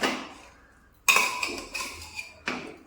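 A spoon clinks and scrapes against a pot as chicken is stirred with salt, masala and onions for pressure-cooker chicken: a few sharp metallic knocks spaced about half a second apart, close and fairly loud, after a quiet start.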